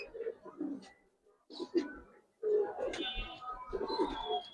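Old-breed giribaz colouring pigeons at a pigeon market in Old Dhaka coo in several close, throaty bursts separated by brief pauses.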